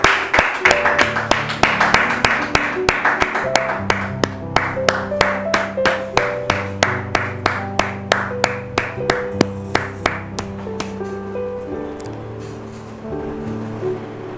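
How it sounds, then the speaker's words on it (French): Rhythmic, evenly spaced claps from a church audience welcoming a pastor, sounding over music with sustained tones and a bass line that runs beneath the steady beat. "On va recevoir donc le pasteur de notre frère Martial, le pasteur Eli, sous vos applaudissements."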